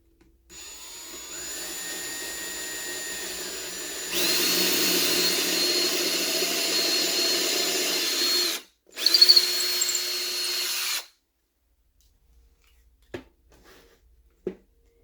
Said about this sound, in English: Then you drill right through the tape.